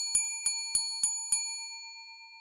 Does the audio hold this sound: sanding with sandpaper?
no